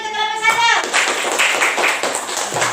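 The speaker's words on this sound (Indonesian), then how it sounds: "tepuk tangan dulu untuk kelompok" A classroom of students claps for a presenting group, a burst of scattered hand claps following a short voice, close and fairly loud, with children's voices underneath.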